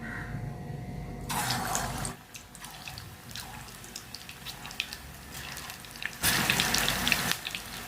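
Mutton keema balls dropped into hot oil sizzle and spatter steadily at medium heat, the frying hiss swelling louder at moments.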